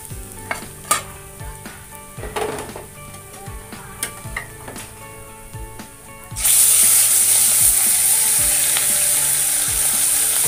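Rohu fish fried in hot oil in a pan, with a few light clinks and stirring scrapes before a loud steady sizzle bursts in and holds near and constant.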